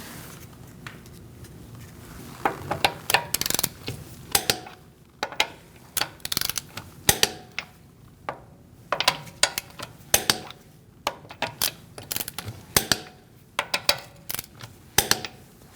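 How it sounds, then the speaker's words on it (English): A torque wrench tightens the lug bolts on a Mercedes-Benz C300 wheel, giving close, repeated ratcheting clicks and metallic knocks in uneven bursts, with no talking. "We're going to torque our wheel to 96 foot-pounds."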